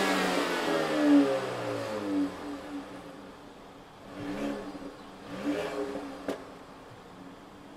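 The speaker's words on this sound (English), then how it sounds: "So let's hear that engine for a moment here." Turbocharged inline-four engine of a 2016 Jaguar XE revving in several rising and falling bursts, fairly close and fading between pulls, heard alone with no talk.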